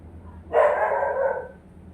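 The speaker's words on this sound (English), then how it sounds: "And now the dog is barking." A single loud dog bark, close by, stretching into a short drawn-out yelp before fading.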